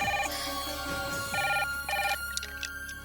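A telephone rings in repeated short electronic bursts, a rhythmic pattern of bright warbling tones over a low steady background.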